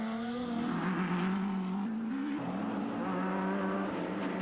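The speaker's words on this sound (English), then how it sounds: "closely followed by Michael Whitehouse and Matthew Carlson there in the Regent Racing Nissan Navara" Rally trucks racing in the Magalies 400, a Toyota Hilux closely followed by a Nissan Navara, with loud sustained engine roar rising and shifting in pitch as they drive past.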